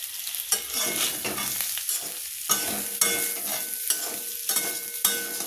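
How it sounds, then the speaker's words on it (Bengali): Potatoes fry in an uncovered wok as a spatula scrapes and stirs them in repeated strokes over a steady, close oil sizzle. "আলুটাকে আমি এইভাবে কড়া ঢাকা দিয়ে ঢাকা দিয়ে ভেজে নিয়েছি"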